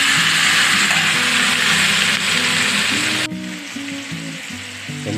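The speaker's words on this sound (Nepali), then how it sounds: "यो टमाटरको अचार चाहिँ हुँदैछ हाम्रो, पाक्दैछ" Tomatoes for a Nepali tomato pickle fry in oil with red chili powder and a little turmeric, giving a loud, steady, close sizzle throughout, with faint tonal clatter and stirring sounds underneath.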